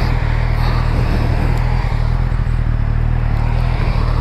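A 2020 Suzuki Katana motorcycle runs low on fuel with its engine idling close by, a steady, loud, throbbing rumble that holds even for the whole stretch, with no talk over it.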